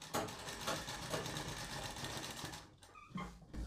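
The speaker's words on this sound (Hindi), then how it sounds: "फिर इसको ऐसे पकड़ के इसमें सिलाई लगानी" A sewing machine runs steadily while stitching a kurti, a continuous close mechanical whirr with a faint rhythmic pulse, stopping near the end before a brief restart.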